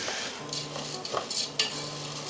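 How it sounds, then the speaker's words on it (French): Dry coquillettes pasta stirred in a frying pan to toast, soft sizzling under a few scrapes and clinks of the spoon, close and fairly quiet. "On va ajouter les coquillettes. Hop. On mélange, on mélange."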